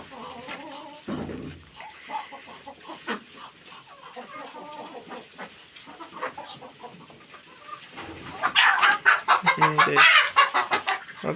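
Chickens and roosters in a winter coop cluck at close range, scattered calls rising into a louder burst of clucking near the end.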